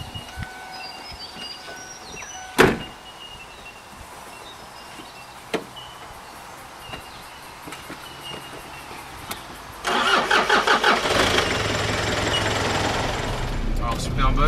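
The diesel engine of a 2003 Kia Pregio converted into a camper van cranks after a couple of sharp clicks and catches, then settles into a loud, steady idle close by.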